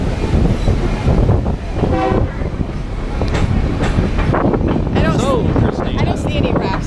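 Train on the Smoky Mountain Railroad, a loud rumbling and clattering ride heard from aboard, with wind buffeting the microphone and voices talking over it.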